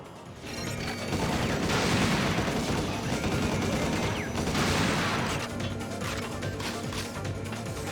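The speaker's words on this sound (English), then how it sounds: "Assault rifle, nice." Sustained assault rifle fire in the shooter Coded Arms, dense and continuous like a roaring fusillade, loud throughout with a couple of heavier swells.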